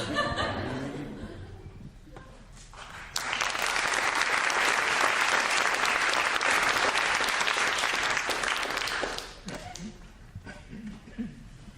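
An audience claps at a talk, the applause swelling to a loud, dense wash of hands for several seconds before tapering off, with brief speech and light laughter at the start and end.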